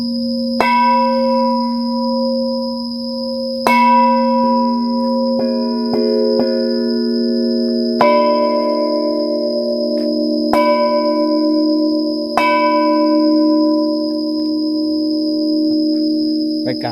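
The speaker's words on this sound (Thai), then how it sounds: "ระฆังทองครับผม" A large golden temple bell struck repeatedly at slow, uneven intervals, each strike ringing out with a long shimmering decay that overlaps the next.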